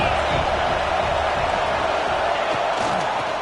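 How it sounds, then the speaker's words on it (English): Dense, steady roar of an Alabama home stadium crowd in the NCAA 26 college football video game, filling the field on a third down with continuous broadband noise and a few faint swells, no clear voices standing out. "The Tide crowd rolling noise down on the Saban field on 3rd down"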